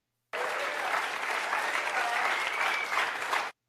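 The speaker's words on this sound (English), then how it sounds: "give him a big round of applause" A large audience breaks into a big, sustained round of applause, dense and steady clapping that holds at full strength for about three seconds before stopping abruptly, with no talk over it.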